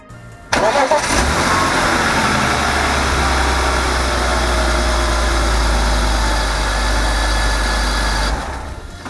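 BMW 323ci E46 straight-six engine starting up after an oil change: a brief cranking whirr, then the motor catches and settles into a loud, steady idle close by before fading at the end.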